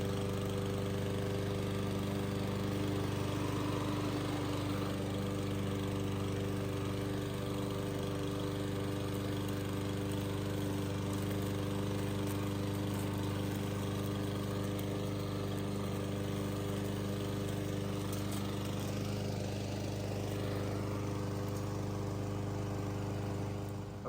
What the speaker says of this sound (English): Let's get some mowing done.